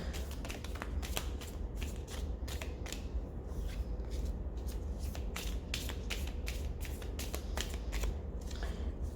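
A deck of playing cards is shuffled repeatedly, with quick crisp riffling flutters and snapping card edges that come in bursts close to the microphone over a faint background hiss.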